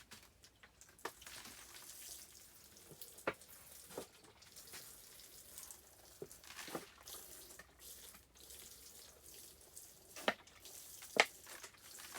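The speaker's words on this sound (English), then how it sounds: "So I'm finna just water them in." Water trickling and splashing onto soil as seedlings in a seed starting tray are watered indoors, a steady soft pour with occasional louder drips, close and fairly quiet, with no talking.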